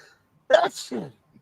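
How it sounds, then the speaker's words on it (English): A single short sneeze, close and fairly sharp, followed by a brief breathy trailing sound, with quiet surroundings. "I was sneezing."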